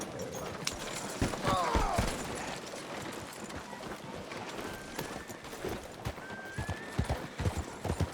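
Horse hooves clip-clopping at a gallop in the Red Dead Redemption 2 video game, a steady rhythmic beat with a brief whinny, under game music and a voice talking.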